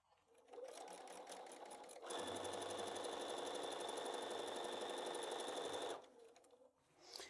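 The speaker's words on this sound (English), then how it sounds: "I'm going to go sew this 1/4 of an inch side to side." A sewing machine stitches fabric for a summer door banner, its needle hammering in a fast steady whir that speeds up and stays loud for several seconds before stopping, close by with no voices.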